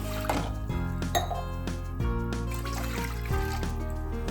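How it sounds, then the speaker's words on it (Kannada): Water pours into a pan to boil pasta, a steady trickling stream with a few light clinks, set against a tonal musical background. "ಒಂದು ಬಾಣಲಿಗೆ ನೀರು ಹಾಕೋತಾ ಇದ್ದೀನಿ"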